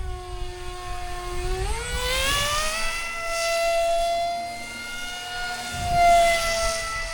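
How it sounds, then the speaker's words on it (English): A small RC SU-57 park flyer model plane with a pusher propeller drones overhead, a steady whining buzz that rises and bends in pitch as it flies past, moderately close and without talk. "So this SU-57 is actually flying very well."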